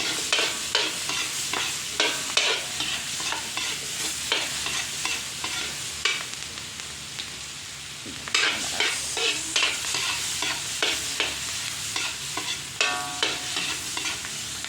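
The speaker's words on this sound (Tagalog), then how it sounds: "Lagyan na po natin bawang, sibuyas" Garlic and onion fry for pork belly in a pan, a steady crackling sizzle broken by repeated scraping strokes of a utensil stirring the mix, close and fairly loud, with a brief lull partway through.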